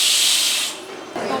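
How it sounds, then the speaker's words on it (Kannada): A pressure cooker vents steam while payasam is being made, a loud steady hiss that fades after a moment before a second softer burst of hissing. "ಕುಕ್ಕರ್ ಆಗಿದೆ ಈಗ."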